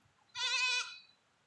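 A goat gives one loud, close bleat lasting about half a second, with a clear wavering voice and nothing else around it.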